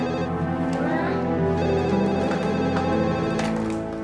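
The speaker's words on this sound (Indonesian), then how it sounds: "Ada telepon." A telephone rings in a home with a repeating melodic ringtone that runs steadily and loudly throughout, with no talk over it.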